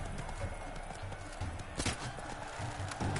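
Roach, the horse in The Witcher 3: Blood and Wine, gallops with a steady, rapid clip-clop of hooves that sounds close and continuous, with an occasional snort or whinny breaking through.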